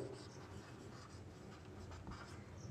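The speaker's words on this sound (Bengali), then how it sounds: "ধরো বাবুই চিঠি দিচ্ছে সেটা লিখলাম" A pen scratches steadily across paper while a signature is written at the bottom of a letter, a soft, continuous close-up scribble with small strokes and pauses, heard alone without voices.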